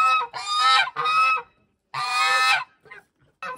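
Several geese and ganders honk in bursts from a farm run, loud, nasal calls in two quick groups, a pause, then another long burst and a few fainter calls trailing off.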